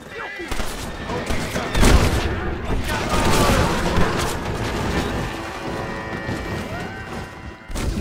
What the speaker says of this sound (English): You're throwing those fire bottles, aren't you?